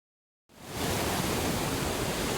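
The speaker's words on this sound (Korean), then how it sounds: "사납게 몰아치는 파도 소리와 모든 것을 부수는 폭풍 소리가 들렸다" A crashing-waves and storm sound effect bursts in after a moment of silence and rises quickly into a loud, dense, continuous roar of surf and wind that holds steady to the end without any voices.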